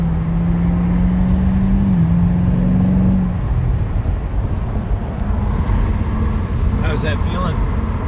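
A 2015 C7 Corvette with an 8-speed automatic pulls hard in second gear, a loud steady engine drone rising then easing off, with wind roar throughout and a brief voice near the end.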